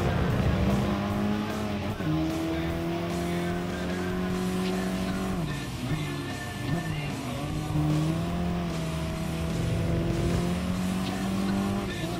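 A BMW race car powering out of a corner, its engine droning loud and close with rising and falling revs, tire squeal and skidding noise layered over the strained engine note.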